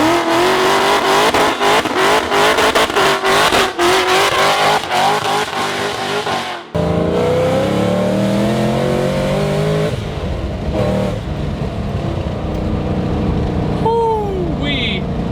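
A supercharged 750HP Shelby GT500 Super Snake engine roars and revs hard up through the range, a high supercharger whine rising over the exhaust near the top, loud and close, with people talking over it.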